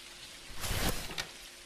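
Rain in the video game Jalopy, indoors in a leaky hotel room, a brief soft patter that swells into a short heavier splash of falling water before easing off, quiet and close.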